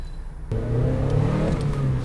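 A Mazda MX-5 NB's engine, heard from inside the car, idles quietly, then abruptly revs up and holds a loud, climbing drone with slight surges for over a second and a half.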